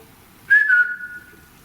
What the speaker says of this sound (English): It's like a whistling.